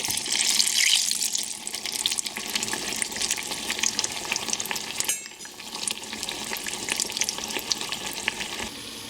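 Aubergine fritters for Bengali beguni sizzle steadily in hot oil in a wide frying pan, a dense, continuous crackle and hiss with a brief dip midway, close and fairly loud with no voices.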